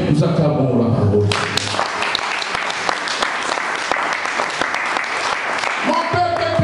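A church congregation breaks into loud, dense applause that lasts several seconds, with cheering mixed in and a voice at the start and end.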